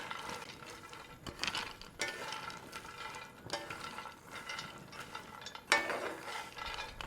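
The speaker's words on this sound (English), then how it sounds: "So let's start off by dry roasting our nuts." Nuts being dry roasted in a pan for Diwali sweets, heard as quiet intermittent rattling and scraping as they are stirred and tossed, faint and close with no talking.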